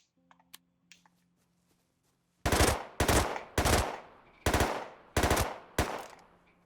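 Gunfire from a rifle in the game Rust, set to burst mode, comes as six loud, close bursts in a quick, even rhythm after a couple of seconds of faint clicks.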